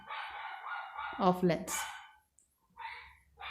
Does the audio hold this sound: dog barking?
yes